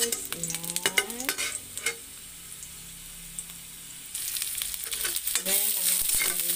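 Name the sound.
garlic frying in oil in a pan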